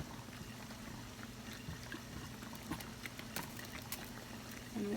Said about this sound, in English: my water is trying to boil over a little bit